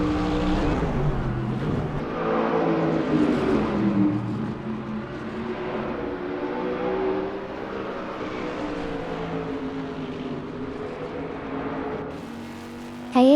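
GT3 race cars roar around Maple Valley in an AI-driven racing game, engines droning and shifting pitch continuously as the cars jostle closely, loud and sustained throughout.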